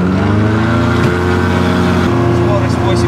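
A light aircraft's propeller engine roaring loud and close during the takeoff roll, a dense steady drone that steps up in pitch as it gathers speed, with a voice speaking over it.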